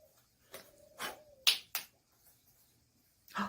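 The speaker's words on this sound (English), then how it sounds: "I'm going to place the placards together, snap my fingers." A few crisp finger snaps during a close-up card magic routine, sharp isolated clicks spaced irregularly over a quiet room, with a faint brief tone near the start and no talking.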